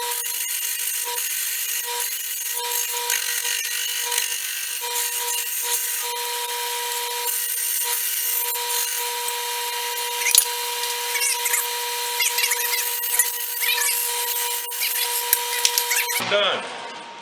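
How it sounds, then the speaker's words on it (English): A bowl gouge cuts a spinning wood blank on a lathe, shaping a travel mug, with a steady hissing scrape and a constant motor whine at close range. Occasional small knocks come through. "So I'll grab my bowl gouge and we'll get to turning."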